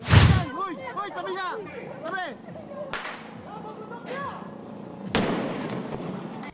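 A giant whistle bomb firecracker is set off in the middle of a street, producing three sharp, loud blasts at the start, middle and end while a voice talks over them.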